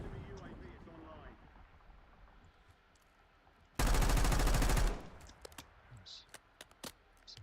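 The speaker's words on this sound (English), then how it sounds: "Some bad shooting right there." A sharp, loud burst of rapid automatic gunfire in Warzone lasts about a second, standing out over quiet ambience, followed by scattered faint distant shots and clicks, with someone talking before it.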